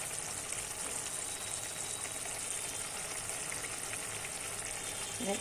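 Potatoes cooking in spiced oil with a little added water for a kachki fish curry, giving a steady soft sizzle and bubbling that stays constant and faint from start to end.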